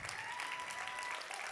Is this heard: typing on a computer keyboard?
no